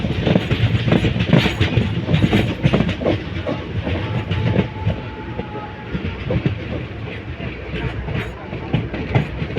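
A passenger train runs along track through deep forest, a loud steady rumble with rhythmic clattering of the wheels over the rails and a brief tonal note partway through, heard close from on board.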